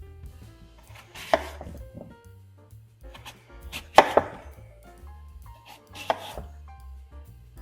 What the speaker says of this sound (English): I'm chopping these into approximately half-inch pieces.